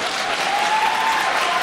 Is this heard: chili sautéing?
no